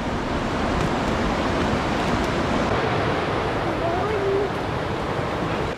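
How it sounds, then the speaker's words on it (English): A waterfall on a backcountry hiking trail gives a constant broadband rush of falling water, steady and fairly close, with no clear talk over it. "But we have to get across this waterfall."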